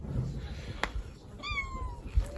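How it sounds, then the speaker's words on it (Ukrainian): A cat that wandered up to a newly built outdoor poultry enclosure gives a single clear meow over a rustling, noisy background, with a sharp tap just before it. "бачите, кішка прийшла, допомагає мені"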